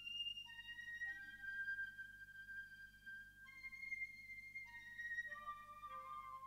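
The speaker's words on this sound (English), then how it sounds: "Then I had this flute that sounds like this." A processed flute sample run through a tape-style effect, playing a slow, melodic line of sustained tones over a steady low hum, quiet and alone with no talking.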